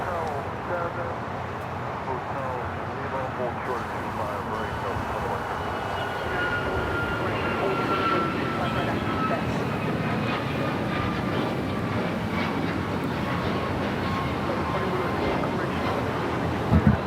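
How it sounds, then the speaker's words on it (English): A United Airlines jet airliner taking off at LAX on a misty morning, its engine roar building steadily over many seconds into a loud, sustained rumble with a faint whine, heard from a spotting position. "That takeoff was United Airlines 2667 taking off to Washington Dulles"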